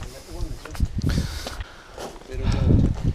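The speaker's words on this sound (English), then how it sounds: "Hello, goats." Goats call on a rocky mountain trail in Crete. Short, wavering bleats sound at close range among hikers' footsteps and talk, with a louder, lower bleat near the end.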